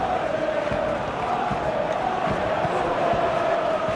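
Steady crowd roar from a packed stadium in Football Life 26, a video game football match, swelling slightly with a constant broadband wash and no distinct voices over it.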